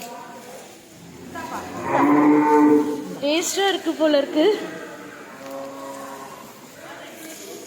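Cows at a gaushala cow shelter low loudly in long, wavering moos, one deep call followed by a higher, bending one, while people chat nearby in between.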